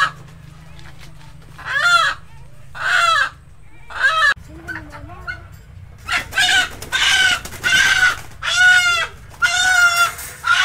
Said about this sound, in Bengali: একেবারে দেশি মুরগি